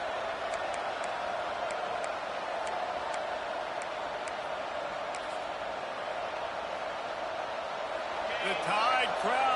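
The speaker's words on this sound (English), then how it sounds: "The Tide crowd rolling noise down onto Saban Field on 3rd down" A steady, loud roar of a large college football stadium crowd at Alabama's Saban Field on third down fills the whole stretch, with faint ticks and a swell of noise near the end.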